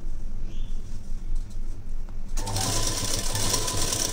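A sewing machine stitches a frilled long puff sleeve onto a blouse bodice with lining attached, starting quietly and then whirring loud and steady up close for the last couple of seconds.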